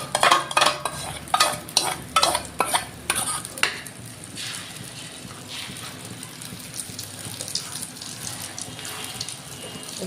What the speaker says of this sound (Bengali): তেলটা গরম হয়ে গেছে, এখন আমি এই অমলেটটা দিয়ে দিব।